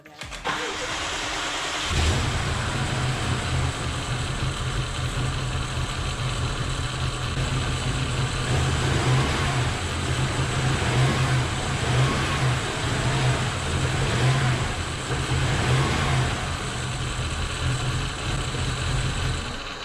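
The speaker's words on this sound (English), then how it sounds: "The engine is running rough a little bit because of a few bad connections" A rebuilt BMW 750i engine with a few bad connections starts after a brief quiet moment, then runs rough at a steady, close idle with an uneven, pulsing low rumble for the rest of the stretch.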